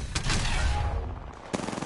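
Gunfire in the video game Apex Legends, with a few sharp, close shots cracking over a low rumbling background.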